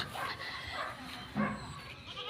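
Goats bleat in short, wavering cries, a few calls close together against a faint outdoor background.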